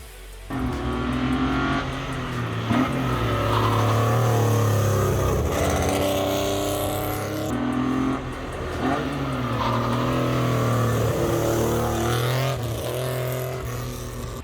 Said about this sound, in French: la 504 Coupé V6 Groupe 4, encore plus énervé avec son V6 PRV de 250 chevaux.